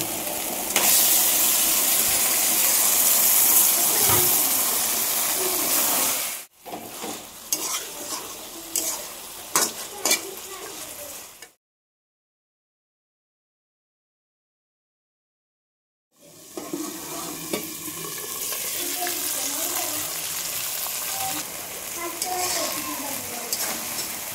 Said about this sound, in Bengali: মশলাটা একদম সুন্দরভাবে হয়ে গেল। এবারে মাংসটা দিয়ে দিব।